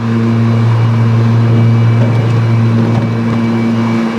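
Ryobi 80V Z54Li electric riding mower cutting tall grass near a roadside ditch: a loud steady electric whine with strong humming tones and blade roar, continuous and close throughout, with no talk.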